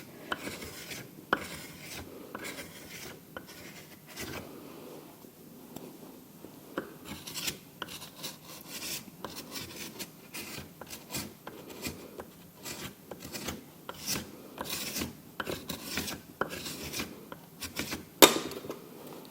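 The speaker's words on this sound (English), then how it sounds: "If you're using a paint scraper, just use it like this. Don't go gouging, just you're smoothing it out." Steel paint scraper drawn steadily across a plaster mould surface in a ceramics workshop, giving repeated close rasping strokes in an irregular rhythm with one sharper knock near the end.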